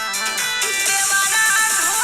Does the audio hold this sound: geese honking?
no